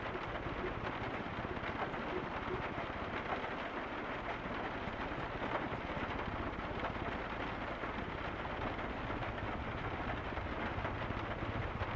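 Rain patters steadily in a video game, a dense, even hiss of drops with low rumbling underneath, continuous and fairly loud throughout with no voices.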